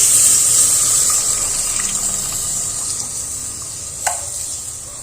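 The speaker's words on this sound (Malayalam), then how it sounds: "നമുക്ക് ആവശ്യത്തിന് പുളിവെള്ളത്തിൽ ഒഴിച്ചു കൊടുക്കാം കേട്ടോ" Tamarind water is poured into a pan of fish curry, making a continuous splashing, trickling flow over a faint sizzle, close and steady with a small clink near the end.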